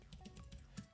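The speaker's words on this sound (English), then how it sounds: "Type in your password." Keys tapped on a computer keyboard while entering a password in a Kali Linux terminal, a short run of soft, quick clicks close by with no speech.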